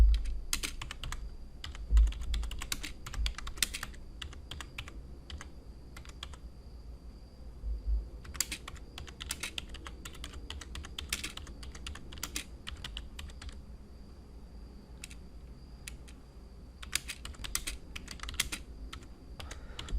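Computer keyboard typing in irregular bursts of quick keystrokes with short pauses, close and fairly clear against a low steady hum, no voices.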